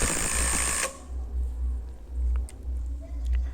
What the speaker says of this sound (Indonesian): ini di assist mode tipe 1 kita akan gunakan untuk penyekrupan panjang